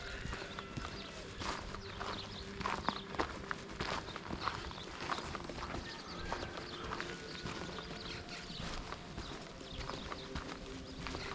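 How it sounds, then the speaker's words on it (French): Pyrenean donkeys walk outdoors at a bird reserve, their hooves clip-clopping in a steady, uneven rhythm at close to moderate distance, with occasional rustling and faint background noise and no one talking. "Les ânes des Pyrénées."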